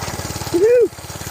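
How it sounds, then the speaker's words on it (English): A monkey bike, a small mini bike running without choke, idles outdoors with a steady, fast low thumping pulse throughout. A brief rising and falling vocal hum sits over the engine midway. "All right, well, we got the monkey bike running. I'm out here just idling or whatever."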